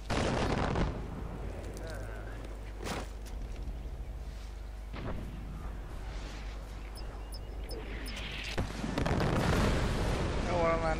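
Gunfire and explosive blasts in the video game Far Cry 4, with loud sharp bursts rumbling over a constant low drone while someone talks and swears excitedly in Hungarian throughout.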